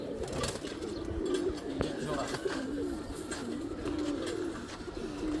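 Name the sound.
tota pigeon calling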